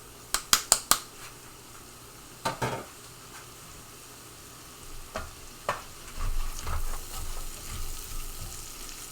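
Onions and spices are stirred into bacon fat in a pan: several sharp clinks and scrapes of a utensil come first, followed by a soft, steady sizzle that rises toward the end, quiet and close with no talking.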